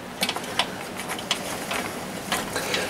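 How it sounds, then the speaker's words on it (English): A ratchet ticks in short, uneven bursts while bolts are threaded back in on a 2008-2011 Ford F-Series headlight assembly, with light metallic clicks close by and no talking. "Then get your bolts. Start putting the bolts back in."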